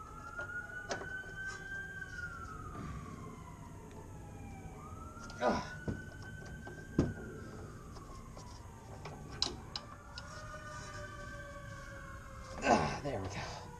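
A siren wails past from a vehicle driving around outside a garage during a Honda Integra engine job, rising and falling in long sweeps at moderate distance, with scattered clanks and a brief grunt nearby.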